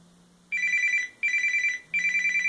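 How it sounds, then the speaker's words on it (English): A telephone rings with an incoming call, set inside an energized Faraday cage science fair test, three bursts of a bright electronic trill separated by short pauses, clear and close. "he can make a phone call to this phone and see if it will actually work"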